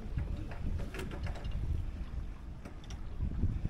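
A junk rig sailboat under way makes steady wind rush and buffeting against the microphone. Faint water wash and light creaks come and go beneath it, with no voices.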